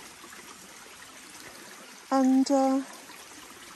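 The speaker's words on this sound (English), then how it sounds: "there was a lot of overflow that you can see here in the stream" An overflowing stream of rainwater beside a very wet cottage, a steady, fairly quiet rushing hiss running throughout, briefly interrupted by a single spoken word near the end.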